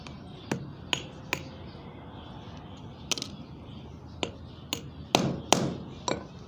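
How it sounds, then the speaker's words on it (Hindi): A nail is driven into a wall to hang a clay matki nest pot for a finch colony aviary: a handful of sharp, close, irregular hammer strikes over quiet room noise, bunching together toward the end. "इस तरीके से ठोक लेने से कील टेढ़ा नहीं होता है। ये आपने कील ठोक लिया।"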